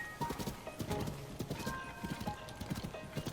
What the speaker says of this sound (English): There are like dozens of horses all over the grass.